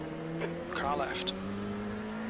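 A race car from iRacing sweeps past on the left, its engine tone rising and falling as it goes by close, over a steady drone of the player's own engine.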